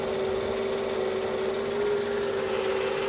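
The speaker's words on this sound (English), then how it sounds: "But the engine itself sounds good." A 2003 car engine with 127,000 miles idles with a steady, even hum and a constant tonal drone, no speech.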